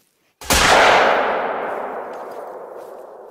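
A single loud shotgun blast from the hunting video game theHunter: Call of the Wild hits suddenly and rolls off into a long, fading echo, with no voices.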